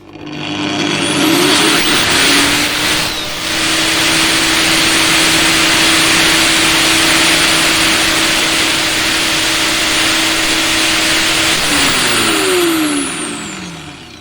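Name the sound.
angle grinder running at full speed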